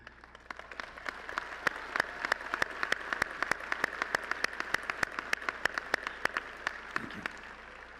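Audience applause at a Lamar University College of Business commencement in May 2019: a steady spread of crisp, overlapping hand claps from a crowd, moderately distant, continuing evenly throughout with no voices over it.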